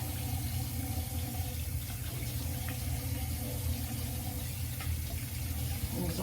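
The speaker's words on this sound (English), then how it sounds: "So, we'll do a little rinse." Tap water running steadily while rinsing off after an underarm shave, a continuous low splashing flow at moderate distance with no speech over it.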